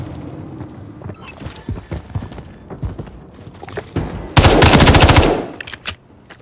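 Call of Duty: Modern Warfare 3 gunfire: scattered shots and clatter, then one loud, dense automatic burst lasting about a second before it tails off.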